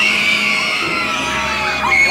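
Riders on the HUSS Viking's Rage swinging ship ride at Canada's Wonderland during Winterfest scream and yell together as a crowd, a loud sustained mass of shrieks with no pauses.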